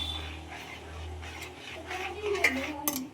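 A thick mohanthal mixture of gram flour is stirred in a pan with the gas off. A utensil scrapes and clinks against the metal, growing louder toward the end, under a faint low hum.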